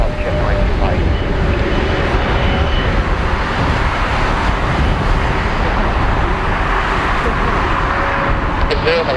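A Fiji Airways Airbus jet takes off from runway 16 right at Narita International Airport in early summer, its engines producing a loud, sustained broadband roar with a steady rumble throughout.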